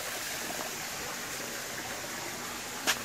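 A small backyard waterfall driven by a pump gives off a steady, even trickling rush, soft and continuous with one brief faint knock near the end and no voices.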